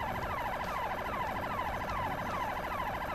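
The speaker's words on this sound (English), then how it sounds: "Okay, that's a kind of a sick siren" A wailing siren from a drivable ODST car in a Halo 3 Forge mod, with repeated rising-and-falling sweeps cycling steadily and loudly for the whole stretch, no talking.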